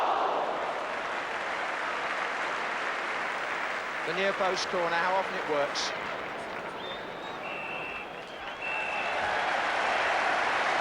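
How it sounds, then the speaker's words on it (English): Broad crowd applause and noise fills a football stadium at half-time as Manchester United play Spurs, steady throughout, while a commentator speaks over it briefly in the middle. "Generous applause for Manchester United at half-time"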